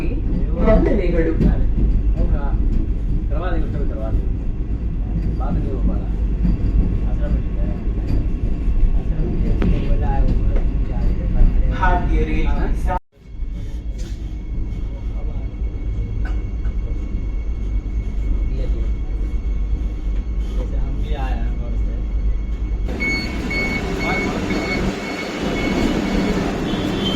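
Vande Bharat Express (Train 18) on the Dharwad to KSR Bengaluru run, heard from inside as a steady, continuous rumble and rolling noise. A brief sharp dip sits midway, then the ride noise carries on.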